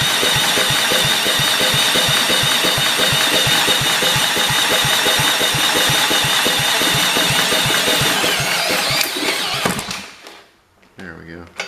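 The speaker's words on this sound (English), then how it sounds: "Just spin it to let it kind of get some oil spun around." Kohler K181 single-cylinder engine from a long-stored motor being spun over to circulate oil, a fast loud rhythmic chugging that runs steadily then cuts off abruptly near the end, leaving near silence with a few faint knocks.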